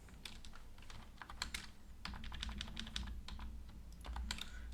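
Keys clatter on a computer keyboard in uneven bursts of typing while code is edited for a Quartus RAM design, close and fairly quiet over a low background hum, with no talking.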